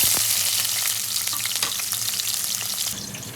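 A large onion with bay leaves and a piece of cinnamon drops into hot oil, giving a loud, continuous sizzle with a few crackles and pops, easing slightly toward the end.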